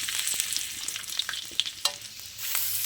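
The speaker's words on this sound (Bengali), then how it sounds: "এরপর ওই তেলের মধ্যে আমি আদা কুচিগুলোকে দিয়ে দেবো।" Chopped ginger fries in hot ghee and oil with whole garam masala and bay leaves, a steady close sizzle with small pops and a few stirring clinks running throughout.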